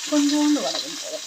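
Urad dal, vadagam and mustard seeds sizzle briefly in hot oil for a tempering, a short loud crackle and hiss close by, with a brief voice over it.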